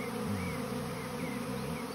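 A honeybee swarm buzzing in a garden, a dense continuous drone of many bees with individual wingbeats rising and falling close by, with no talking.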